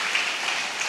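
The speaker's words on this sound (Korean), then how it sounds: "우리 한번 박수로 하겠습니다." Church congregation applause, a brief burst of dense, steady clapping heard at moderate distance.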